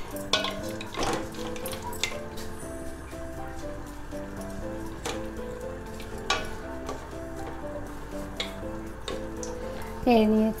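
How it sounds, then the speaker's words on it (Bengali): Naphthalene balls stirred into a simmering homemade hand sanitizer mixture in a pot, with a soft bubbling sizzle under repeated clinks and taps of a spoon against the pan, close by. "ন্যাপথলিন দিয়ে একটু নেড়ে নিব।"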